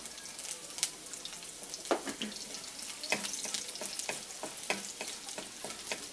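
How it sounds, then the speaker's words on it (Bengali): Chopped garlic frying in a wok with dried chilli and black cumin, a soft continuous sizzle broken by repeated scraping stirs, close but fairly quiet, with no talk. "এখন দিচ্ছি কড়াইতে রসুন কুচি"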